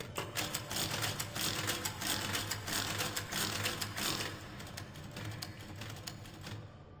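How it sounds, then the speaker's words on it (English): Typewriter-like mechanism in the video game Schizm, giving rapid, dense clicking and ticking that runs steadily and close, then tapers slightly toward the end, with no talking. "Okay, that sounds like a typewriter."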